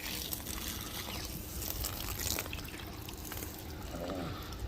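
Water pumped through a hose by a Kickass pump into a caravan tank off grid, a faint continuous trickling and splashing with small drips over a low steady hum, no voices.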